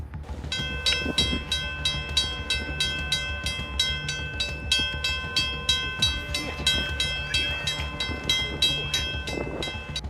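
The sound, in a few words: train plowing through snow, sounding horn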